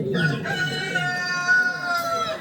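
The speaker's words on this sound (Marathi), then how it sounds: "कोंबड्यानं बांग दिली" Rooster crowing sound effect played during a Marathi folk stage play: a single loud, drawn-out crow with a rising start and long wavering tail, heard alone and close.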